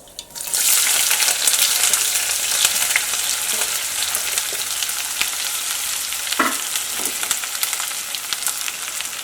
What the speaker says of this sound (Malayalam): ഇതിലേക്ക് സവോള, പച്ചമുളക്, കറിവേപ്പില, ഇഞ്ചി, വെളുത്തുള്ളി ചേർക്കാം